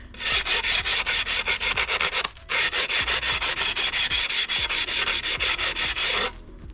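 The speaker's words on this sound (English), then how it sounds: "Because you've done that 45, you've weakened that edge, so it's easy to sand back." A weakened 45-degree wood edge being sanded with 60 grit sandpaper in a shed workshop: loud, steady rapid back-and-forth rasping strokes, close up, with one brief pause, no talking.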